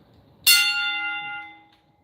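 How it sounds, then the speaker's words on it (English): A bell is struck once in an echoey room, giving a bright, ringing strike that sustains and slowly fades over about a second. "Ring the bell."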